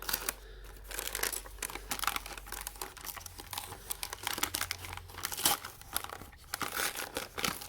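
Flimsy plastic packaging of a Canadian military ration is crinkled and torn open up close, a steady stream of soft crackles and rustles with no talking.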